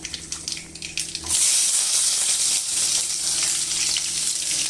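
Mustard seeds dropped into hot oil at home for a stuffed eggplant dish, a sudden loud sizzle that erupts and stays as a continuous crackling hiss close by.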